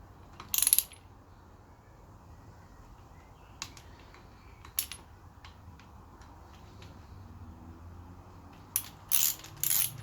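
A torque wrench ratchets in short, sharp bursts of metallic clicks while tightening the slipper clutch on a Kawasaki Z1000, with one cluster at the start, a few isolated clicks midway and another burst near the end, over a quiet workshop background.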